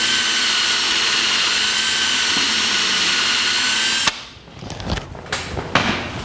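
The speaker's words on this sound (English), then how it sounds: "The first thing I do is hone out the axle." A power drill hones out the axle bore for a king pin on a 1949 Chevrolet gasser, a loud, steady high whine running continuously for about four seconds before cutting off abruptly, followed by scattered quieter handling noises.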